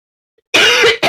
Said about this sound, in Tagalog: Inuubo kasi ako mga pre.